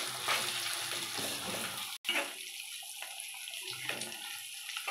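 Eggs fry in a hot pan for egg fried rice, giving a steady close sizzle and crackle that eases slightly after a brief break, with no talking.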